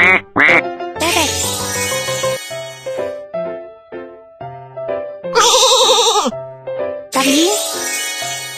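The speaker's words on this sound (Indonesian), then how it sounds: "Kambing." Several loud, close goat bleats with a wavering, nasal tone, separated by short electronic chimes and beeps.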